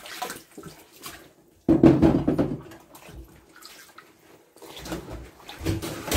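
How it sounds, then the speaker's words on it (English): Tap water running into a kitchen sink to fill it with fresh water, starting abruptly as a strong splashing stream, then easing into a softer flow, with faint clatter and bursts of the stream throughout. "then we'll get a nice, fresh sink full of water"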